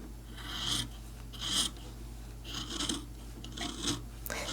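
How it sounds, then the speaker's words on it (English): Scissors cut fabric along a sewn quarter-inch seam line on quilt blocks made from leftover fabric, giving five or six short, close rasping snips at steady intervals with no talking. "Now we're simply going to cut on that line."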